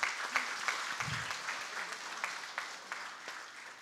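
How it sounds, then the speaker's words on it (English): A graduation audience at a 2024 commencement gives a sustained round of applause, steady dense clapping with no talk over it. "Ladies and gentlemen, I believe our graduates deserve a big round of applause."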